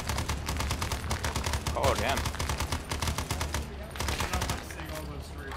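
Sustained rapid gunfire in the military video game ArmA S.O.G. Prairie Fire, dense close bursts running almost continuously with a brief pause, and a short voiced exclamation partway through.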